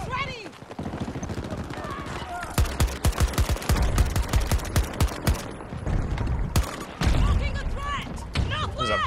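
Burst-fire gunshots from a weapon in the shooter game Battlefield 2042, rapid sharp cracks in clustered volleys with impacts and battle noise, loud and close, a voice talking between bursts.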